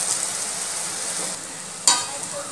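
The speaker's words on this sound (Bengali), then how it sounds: "গ্যাসের জোরটা মিডিয়াম দিয়ে ভাজতে হবে বড়াগুলোকে।" Biuli dal lentil fritters (bora) frying in oil over a medium gas flame give a steady, close bubbling hiss, with a brief sharper crackle near the end.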